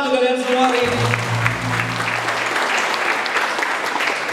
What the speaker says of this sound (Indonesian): tepuk tangan untuk kalian semua hari ini